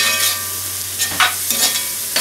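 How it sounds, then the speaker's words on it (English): Vegetables browning in a pan with other ingredients for a beef burgundy roast, a loud close sizzle with several scraping stirs at irregular intervals, no voices. "brown the vegetables with the rest of the ingredients until they start getting soft"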